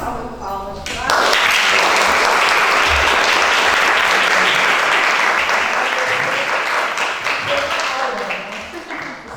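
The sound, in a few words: audience applause after lecture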